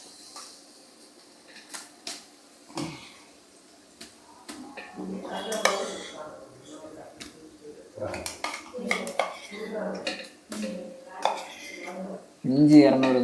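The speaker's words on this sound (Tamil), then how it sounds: "நல்லா கிண்டிக்கிட்டே இருக்கணும், இல்லைன்னா இஞ்சி பூண்டு பிடிச்சிடும்" A spoon scrapes and clinks in a cooking pan as ground ginger and garlic paste is stirred for chicken biryani, giving irregular, close-up metallic knocks and scrapes over about thirteen seconds.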